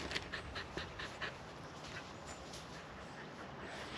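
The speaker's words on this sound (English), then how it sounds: "Beautiful dog, lovely dog." A dog pants outdoors in quick, rhythmic breaths, close by and fairly quiet against a faint background hiss, with no talking.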